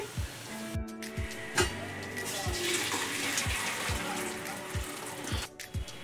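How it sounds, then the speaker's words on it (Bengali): Hot sugar syrup for rasbora is poured out in a steady liquid stream, close and moderately loud, with a few light knocks of the pot against the rim. "চিনির শিরা হয়ে গেছে, আমি ঢেলে নিচ্ছি।"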